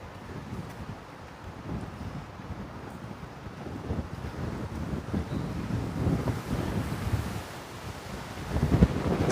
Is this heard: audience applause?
no